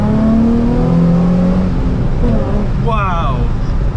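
A salvage Nissan 350Z pulls hard in second gear, its engine droning loudly and steadily with a rising pitch near the end, while someone talks over it.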